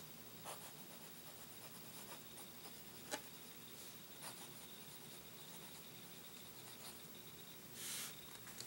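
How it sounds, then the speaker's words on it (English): Fountain pen nib scratching and ticking across paper, soft light strokes with occasional sharper taps, quiet and close with faint background hiss throughout. "And then my writing sample, just for Fountain Pen Friday."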